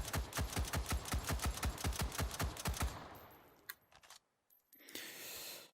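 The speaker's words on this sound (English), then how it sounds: "We're going to fire a few more rounds through this" A Colt rifle fires a rapid burst of about fifteen evenly spaced shots in the VR game H3VR, loud and close, followed by a few scattered clicks and quiet handling before a soft hiss of noise.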